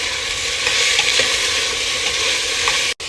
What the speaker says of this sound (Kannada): ಇವಾಗ ತರಕಾರಿ ಎಲ್ಲ ಹಾಕ್ಕೊಳ್ಳಿ. ಸ್ವಲ್ಪ ಅರಿಶಿಣದ ಪುಡಿ. ಈ ಎಣ್ಣೆಯಲ್ಲಿ ಚೆನ್ನಾಗಿ ಹುರ್ಕೋಬೇಕು